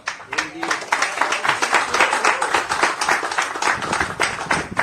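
An audience breaks into sustained applause, dense, even clapping from many hands at a steady loud level, with a voice briefly audible over it.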